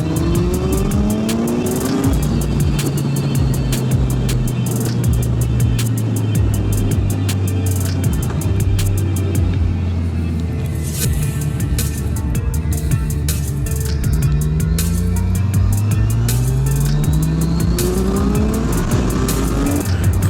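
Car accelerating onto a country highway, engine note climbing and dropping through gear changes with heavy road and wind rumble, loud and continuous from inside the cabin.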